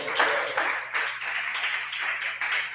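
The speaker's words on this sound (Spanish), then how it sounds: "Dale un aplauso al Señor por eso." Church congregation clapping in praise during a Spanish-language sermon, a steady run of mid-level hand claps with a few stronger bursts, fairly distant and without voices over it.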